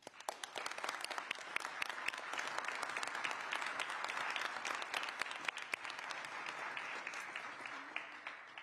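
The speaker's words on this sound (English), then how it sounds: "he deserves an applause" Audience applause at a public safety announcement by New York Mayor Eric Adams, dense sustained clapping from a crowd lasting several seconds at even strength, heard from some distance with no speech over it.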